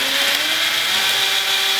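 A power drill bores mounting holes for an ICI Magnum bumper, giving a loud, steady high-pitched whine that holds without a break for about two seconds, close up, no speech.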